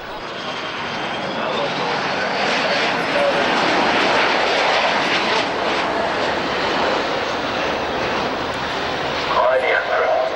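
A Super Hornet fighter jet performs a flying display at the Farnborough air show, its engine roar loud and sustained throughout, swelling and holding as it passes, with a voice heard over it.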